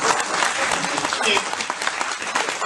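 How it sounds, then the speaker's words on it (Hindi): An audience at a comedy poetry show claps loudly and steadily, a dense wash of applause that lasts the whole short stretch with no break. "ताली तो बजा दो यार।"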